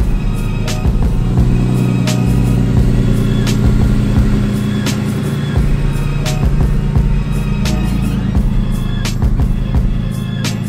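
A car engine idles and revs as the car is moved outdoors, a steady, loud mid-low drone with repeated sharp clicks and ticks over it throughout.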